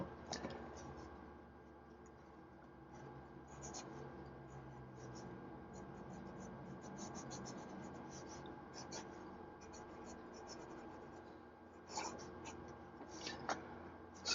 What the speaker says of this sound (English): let's do a writing sample. This is the Parker Victory.